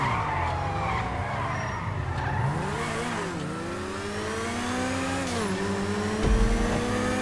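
A video-game car drives on its rims after a flat tire. Its engine revs steadily, the pitch rising and falling, with a brief skid near the end.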